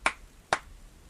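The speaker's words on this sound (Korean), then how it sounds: "희미하게 들리는 박수 소리." Two faint, sharp claps about half a second apart, each a single crisp hand strike with nothing else around them, heard in a quiet spooky setting near woods behind a restroom.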